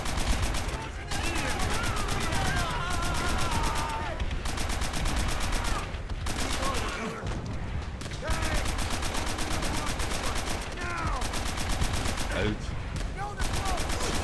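Dense, sustained machine gun fire from a World War II battle in Call of Duty: World at War, loud and close with rapid bursts running nearly throughout, under shouted voices.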